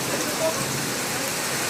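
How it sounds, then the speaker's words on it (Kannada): First rain of the year pouring in Bangalore, a dense, steady broadband wash of rainfall, loud and close throughout the short moment, with no distinct thunderclap. "ನಮ್ಮ ಬೆಂಗಳೂರಿನಲ್ಲಿ ವರ್ಷದ ಮೊದಲನೇ ಮಳೆ"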